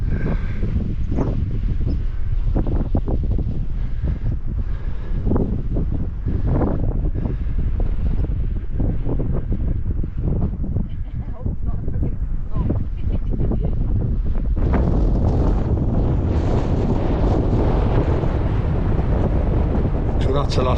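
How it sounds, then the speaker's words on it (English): Strong wind buffets the microphone on an exposed fell top at Simonside in Northumberland, loud continuous roaring gusts throughout with no letup. "It's really quite windy now"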